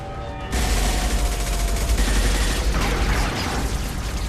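Sustained gunfire in Mass Effect 2 erupts after a brief quiet lead-in, a loud, dense fusillade of overlapping shots and booms that keeps going steadily to the end.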